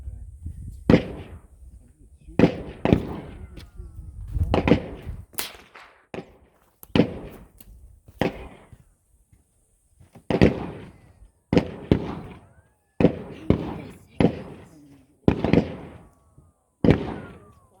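Big bore military rifles from several world conflicts firing at an outdoor range, about a dozen loud sharp reports spaced a second or two apart, each with a short echoing tail, with faint voices between shots.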